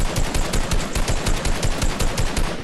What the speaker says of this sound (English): he starts using a minigun to take me out